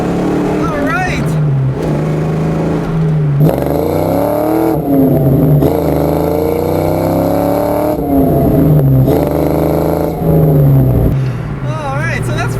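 A 1992 Ford Mustang GT with its 5-liter 302 V8 roars under hard acceleration, loud and close, pitch climbing through repeated gear pulls, with a person whooping over it.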